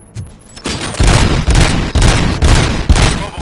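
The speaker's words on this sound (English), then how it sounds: "Gunshots? What's going on?" Gunfire in the video game Robocop: Rogue City comes as a loud, close fusillade of bursts at a steady, regular pace, one after another.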